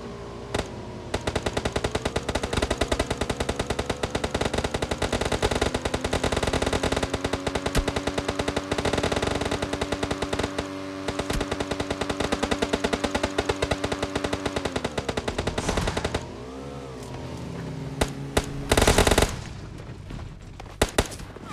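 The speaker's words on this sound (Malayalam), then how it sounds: "എന്തിനാ ആളുകൾ പടക്കം പൊട്ടിച്ചേ?" Rapid, continuous bursts of gunfire or firecrackers crackle through a video game on Vishu day, a dense, loud machine-gun-like rattle lasting about sixteen seconds before cutting off to a quieter background with a few last pops.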